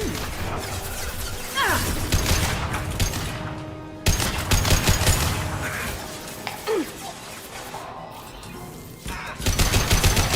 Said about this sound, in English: Let me know if this weapon's too loud. It's much louder than all the other weapons.